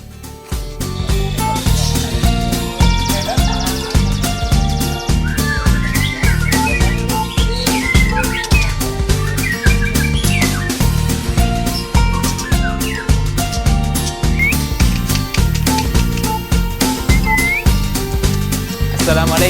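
White-rumped shama birds (murai batu) at a bird farm, bright whistled song phrases and chirps heard faintly beneath loud, continuous rhythmic music that dominates throughout.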